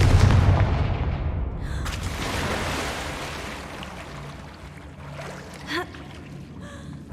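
A Confringo fire spell explodes in the Hogwarts Legacy video game, opening with a loud, booming blast that decays into a rumbling tail, followed by a few smaller crackles and bursts.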